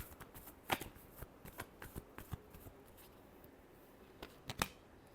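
Tarot cards are shuffled up close in a steady run of quick, crisp riffling snaps and flicks, with a couple of louder bursts near the start and end and no voices.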